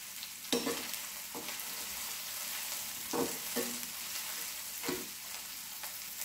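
Red chilies sizzling in hot oil for tomato chutney, a soft steady crackle with several sharper scraping knocks of stirring spread through it.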